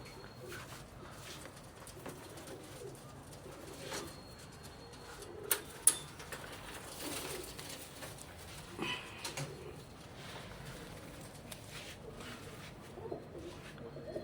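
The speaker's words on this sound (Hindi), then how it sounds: "ये है भाई नोनू भाई के कबूतर, सचिन भाई के।" Pigeons belonging to Delhi pigeon fanciers coo faintly through a long stretch of quiet, with scattered ticks and small knocks nearby.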